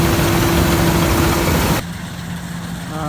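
Kubota DC-93G combine harvester engine running steadily during a rice harvest, a loud, continuous low drone that suddenly drops to a quieter, smoother idle partway through, with no talking.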